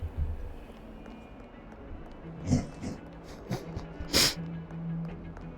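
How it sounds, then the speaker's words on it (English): A pet dog in Hogwarts Legacy moving about restlessly with snorts, breaths and a few scuffling footsteps, scattered short sounds over a low, steady background, close but fairly quiet, with no talking. "Pup is getting maybe a little bit impatient with me."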